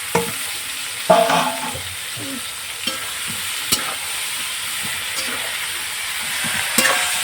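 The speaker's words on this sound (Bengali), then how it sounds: "এবার এই যে সবজিটা আমি দিয়ে দিচ্ছি তেলের উপর" Winter vegetables drop into hot oil already frying with ginger and green chilli, making a close, continuous sizzle. Sharp spatula knocks and scrapes land at irregular moments as the pan is stirred. No one speaks.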